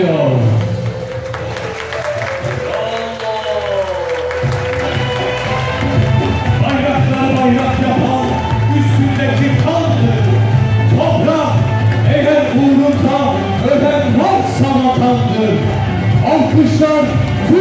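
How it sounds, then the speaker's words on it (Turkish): Audience applause in a wedding hall, a sustained roll of clapping and crowd cheering with a voice speaking over a sound system throughout, music-like tones beneath. "Alkışlar tüm Mehmetçikler için geliyor."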